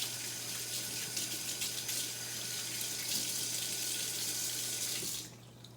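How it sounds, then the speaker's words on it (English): A kitchen tap runs steadily while hands are washed under it, a close, constant hiss of water with splashing, ending as the flow is shut off. "So I'm going to wash my hands really quick"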